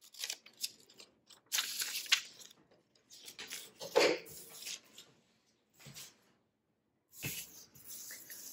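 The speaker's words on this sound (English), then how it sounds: "I'm going to cut out the top piece and the bottom piece with my scissors" Scissors snip through paper in short bursts of crisp close cuts, separated by brief pauses and soft rustling as the sheet is turned.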